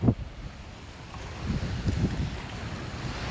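Gusting wind buffets the microphone on a beach at Labac, Naic, Cavite, rumbling low and uneven with a faint wash of waves beneath.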